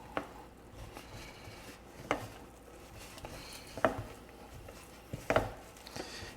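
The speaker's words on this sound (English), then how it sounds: "stir this mixture" A spoon works flour into a boiled choux pastry mixture in a pot, giving faint, low scrapes and knocks roughly every couple of seconds over a quiet, muffled background.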